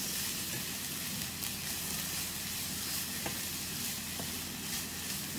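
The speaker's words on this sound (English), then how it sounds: "And keep stirring this till both become nice and brown." Onion and freshly grated coconut fry in a pan for a Malwani chicken curry, giving a steady, close sizzle with a few faint scrapes of a spoon stirring through the mix.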